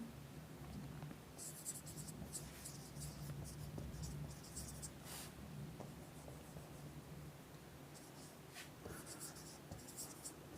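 Pen writing notes during a Class 9 chemistry lesson on pure substances and solutions, a faint steady scratching under a noisy room background, with a few brief louder scrapes and no clear talk.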